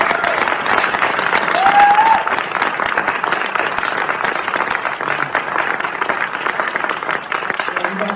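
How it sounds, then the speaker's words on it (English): An audience at a university alumni keynote breaks into sustained applause, a dense wash of clapping that peaks early and carries on steadily, with a faint voice briefly heard over it. "I kind of want to give the CRC staff another applause."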